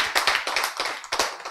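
An audience at a Bible lecture breaks into a short round of applause, a brief burst of overlapping claps rising and falling over about a second and a half, with no talking.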